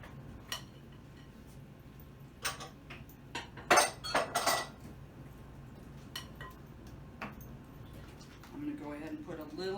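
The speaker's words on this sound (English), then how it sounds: "I'm gonna put this egg mixture in with what was boiling in the saucepan" Kitchen clatter while egg mixture is stirred into a saucepan of boiling liquid: scattered clinks and knocks of utensils against a metal pan, with a burst of louder rattling in the middle and a voice talking near the end.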